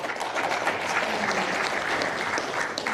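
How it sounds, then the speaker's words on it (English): A debate audience bursts into sustained, dense applause, a steady wash of many hands clapping at close range with no voices over it. "We'll save the clapping to the end"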